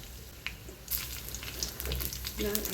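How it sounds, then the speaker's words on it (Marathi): Mustard seeds, curry leaves and green chili sizzling in hot oil in a kadhai, bright crackling and spitting bursts over a steady hiss, close and fairly loud. "तेल चांगलं तापल्यावर त्यामध्ये राई घालूया. त्यानंतर त्यामध्ये कढीपत्ता आणि मिरची ॲड करूया"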